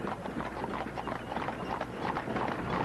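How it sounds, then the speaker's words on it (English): Horse hooves clip-clop at a walking pace on a racetrack grounds, with a steady uneven rhythm of moderately close, faint hoofbeats. "They come to race their horses"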